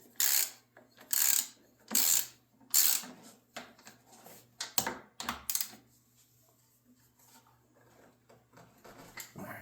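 Ratcheting clicks from bolts being tightened on a Toro 621 E snowblower during a belt replacement: four loud, even bursts of rapid clicking close up, then softer, scattered metallic clinks and handling noise fading out.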